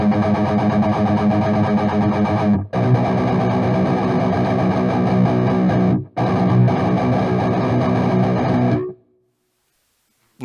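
Loud, low-tuned distorted electric guitar chugging through an AMP1 Iridium Edition amp without a Tube Screamer, in sustained heavy bursts, with two brief cut-offs, then ringing out into silence.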